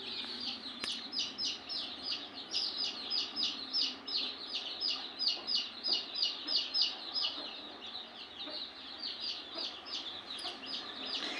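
Native country chicken hen with chicks clucking steadily and rhythmically in a shed, the clucks soft and fairly close, alongside faint high chick peeps.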